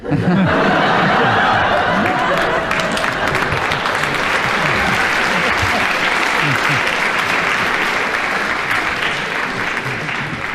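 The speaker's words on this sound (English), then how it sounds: "Got a nice round of applause." Studio audience at a recording of a radio comedy panel game bursting into loud, dense applause with some laughter mixed in, sustained and close throughout before tapering slightly at the end.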